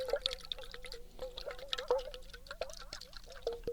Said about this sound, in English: This is sort of a combination of two common triggers. Water sounds.